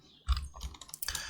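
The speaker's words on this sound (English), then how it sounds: "hitting T on the keyboard, and let's continue typing" Keystrokes on a computer keyboard during Photoshop text entry, a short irregular run of clicks and taps, close and fairly soft, with no voices.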